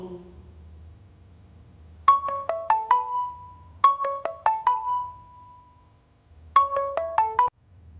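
A phone rings with an incoming call: three bursts of a bright, repeating melodic ringtone spaced a couple of seconds apart, clear and fairly close over a quiet low background.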